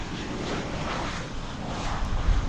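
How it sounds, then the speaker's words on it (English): An American Airlines jet arriving from Louisville rumbles steadily as it lands on a runway at DFW Airport, a broad, continuous engine roar heard from a moderate distance with light wind noise and no talk. "here comes American Flight 385 from Louisville"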